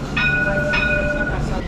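A tram pulls into a stop in Rio de Janeiro, Brazil, with a loud rumbling rail roll and two or three bright tonal squeals or horn-like notes, close by.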